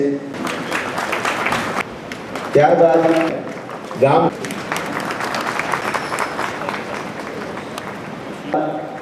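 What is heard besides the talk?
audience applause at award ceremony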